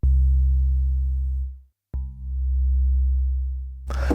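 A Korg Opsix FM synthesizer playing a pure, slightly grainy 12-bit sine tone from a loaded DX7 patch, held for a moment, cut off briefly, then sustained again before a short burst of noise.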